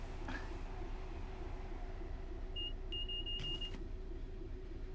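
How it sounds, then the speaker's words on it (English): Class 801 train speeding past in Train Sim World 6 on an LNER route, a short whooshing rush with a brief high whine, heard over a steady cab rumble. "It's another 801 speeding past."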